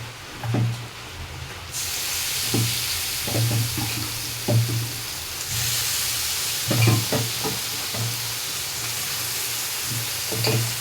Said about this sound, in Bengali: এর মধ্যে এবার আমি মাংসগুলো অ্যাড করে দেবো